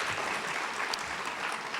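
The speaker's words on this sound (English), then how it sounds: "please clap" Steady applause from a graduation ceremony audience, a dense even patter of many hands clapping together at moderate volume and sustained throughout with no voices over it.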